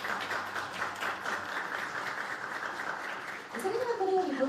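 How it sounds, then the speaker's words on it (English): A crowd applauds the first, second and third place winners at the Tokyo Marathon 2021 awards ceremony, a steady mid-distance clapping that swells slightly near the end as a voice comes in. "Please give another big round of applause"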